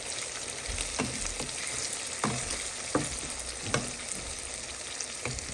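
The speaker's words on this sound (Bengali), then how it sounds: "শুধু পেঁয়াজটা একটু ভাজা ভাজা হওয়ার জন্য অপেক্ষা করছি" Sardine fish and onions frying in a pan give a steady, close sizzle with scattered pops and occasional stirring clatters, no voices.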